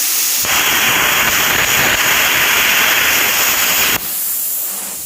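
An Andeli M Cut-50 plasma cutter slices through a half-inch bolt with a loud, steady rushing hiss lasting several seconds, then cuts off abruptly, leaving a softer fading hiss.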